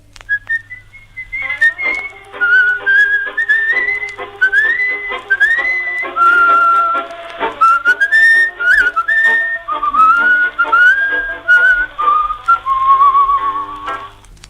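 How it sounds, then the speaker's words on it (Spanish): A person whistles a lively melody up close on a live AM radio broadcast, with bright, wavering notes in quick phrases over a quiet background hum. "Que bien silba"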